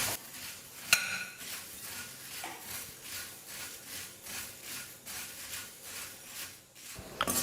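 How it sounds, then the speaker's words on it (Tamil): Puffed rice dry-roasted in a pan over medium flame, stirred with a rhythmic, raspy scraping sweep that repeats about once a second, with a sharp utensil knock near the start. "இப்போ ஸ்டவ்வை வந்து மீடியம் ஃப்ளேமில் வச்சுக்கிட்டு ஒரு 2-3 நிமிஷத்துக்கு நல்லா பொரியை வறுத்துக்கலாம்."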